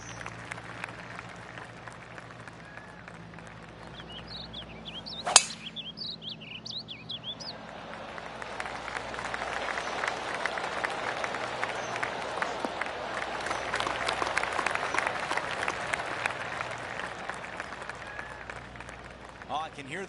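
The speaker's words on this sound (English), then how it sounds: "I can hear the golf claps around the course." Spectators at a PGA golf tournament applaud all around the course, with scattered clapping swelling into a broad, distant wash. Birds chirp over it, and a commentator talks throughout.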